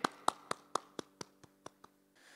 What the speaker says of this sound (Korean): 하나님께 박수로 영광 올려드리기 원합니다